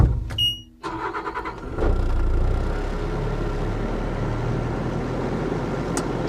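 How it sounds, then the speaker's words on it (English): A 2024 Bobcat T62 compact track loader starts up: a few chimes and clicks, a brief crank, then the engine catches and settles into a steady idle rumble close by. "Guys, we're going to fire this machine up."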